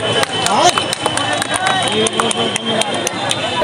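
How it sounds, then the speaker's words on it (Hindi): Audience applause at a football match award distribution in Kaliyanganj, a steady patter of many hands clapping outdoors, with someone talking loudly over it through a PA. "उधर से बहुत जोरों की ताली होनी चाहिए"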